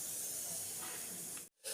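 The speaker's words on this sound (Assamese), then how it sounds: "গতিকে ডিম এটা ফ্ৰাই কৰি দিম" An egg frying in a pan in a home kitchen gives off a steady, close hiss of sizzling oil that cuts out briefly near the end, then resumes.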